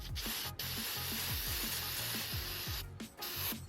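Aerosol cleaner hisses continuously onto the mass airflow sensor of a BMW E36 drift car, a close, loud broadband spray that barely lets up, with a low mechanical pulsing beneath it.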